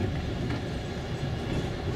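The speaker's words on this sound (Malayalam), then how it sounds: "ട്രെയിൻ സുന്ദരമായ ഒരു സ്റ്റേഷനിലേക്ക് എത്തി." Train on the Trans-Siberian Railway in Russia pulling into a station, a steady low rumble of rolling wagons and wheels running continuously at moderate distance with no voices.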